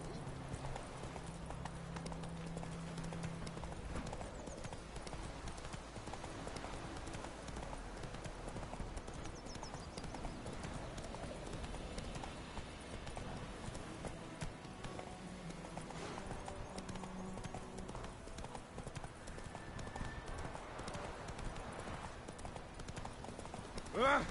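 Roach, a horse in a PS4 video game, gallops with steady, continuous clip-clop hoofbeats under dense game sound and music for the whole stretch, and a person speaks over it at times.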